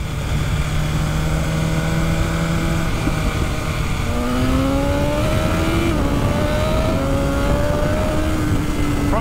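A 2019 BMW S1000RR motorcycle on a test ride, its engine loud and close, revving hard with rising pitch sweeps through successive gear changes over constant wind and road roar.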